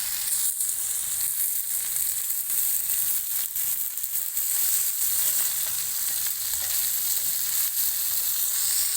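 River catfish, known as ghee fish, fries in hot oil with a loud, steady, close hiss of sizzling and faint occasional crackles, with no voices.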